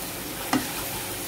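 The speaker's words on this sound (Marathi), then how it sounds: "आता त्यात मी आलं लसूण पेस्ट घालते आहे आणि अजून आपल्याला कांदा चांगला परतून घ्यायचा आहे।" Chopped onion fries with ginger garlic paste in a pan for restaurant-style paneer do pyaza, giving a steady soft sizzle with one brief clink or scrape partway through.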